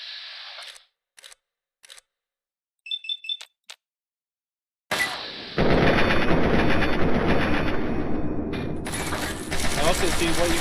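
A Chinese assault rifle in Fallout 3 fires a long continuous automatic burst, loud and close, after a stretch of quiet clicks and interface beeps, with a voice talking briefly.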